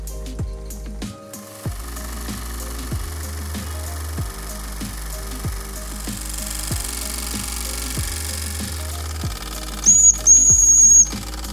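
A Mamod TE1A toy steam traction engine chugging in a steady repetitive rhythm with mechanical clicking, close up, and a brief high whistle near the end.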